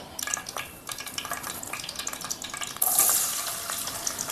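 Onions hit hot oil in a pan and sizzle close up, with clattering stirring and scraping throughout and a louder burst of hiss partway through.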